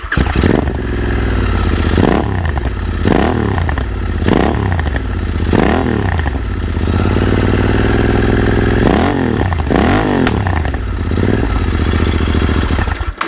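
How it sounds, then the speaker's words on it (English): Royal Enfield Interceptor motorcycle fitted with aftermarket Whiskey exhaust pipes fires up at the button and settles into a loud, close idle, punctuated by repeated sharp throttle blips and revs that rise and fall. "Just fire up the electronic fuel injection there, press the button."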